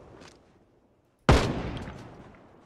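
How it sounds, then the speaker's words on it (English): A single loud shotgun blast in a zombie game mod inspired by Escape from Tarkov, going off at a distance after a near-silent pause and trailing into a long fading echo. "someone's shooting a shotgun"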